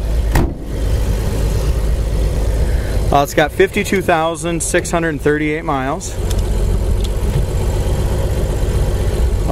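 A 1929 Chevrolet engine idles steadily and low throughout, with someone talking over its constant running rumble for a few seconds midway.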